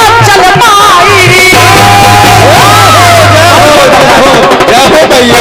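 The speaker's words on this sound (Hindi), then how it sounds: "इसको कहते हैं तालियों का गड़ाहट" Loud, sustained cheering and applause rise from an audience at a devotional jawabi kirtan, with whoops and shouts layered over singing voices and music throughout.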